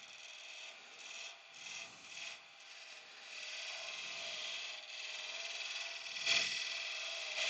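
A hand file rasps repeatedly across a metal collar, shaving about half a millimetre off it, the steady gritty strokes running close and continuous with brief pauses between passes.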